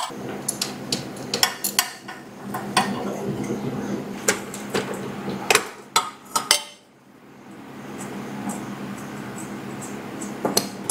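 Wrench work on the exhaust header bolts of a 2024 Honda CB650R: close metallic clinks, taps and ratcheting clicks over a low steady background, with a brief lull midway.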